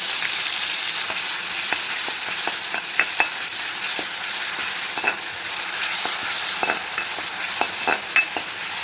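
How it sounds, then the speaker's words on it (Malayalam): Crushed onion frying in hot oil with crushed ginger and garlic for an egg masala, a steady close sizzle broken by frequent scraping stirs of a spoon through the pan, with no talking. "ഇതിലേക്ക് ക്രഷ് ചെയ്ത സവാള ഇട്ട് കൊടുക്കാം."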